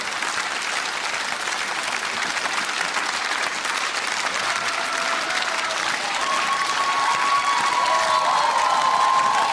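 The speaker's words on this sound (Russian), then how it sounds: "Ну а эти аплодисменты вам" A television studio audience applauds the dancers on a celebrity dance show, steady loud clapping with some cheering throughout, and a faint voice near the end.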